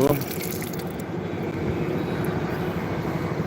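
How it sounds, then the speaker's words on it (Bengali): A steady rush of running water from a tap continues throughout, fairly loud and even, with a faint hum underneath. "ইয়াল্লা পানি ছাড়তেছে কেন"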